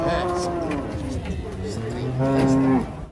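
A calf moos loudly at the Jelok cattle market as cattle are unloaded from a truck. Its drawn-out bellows run almost unbroken, rising into a stronger final call, with faint crowd noise behind.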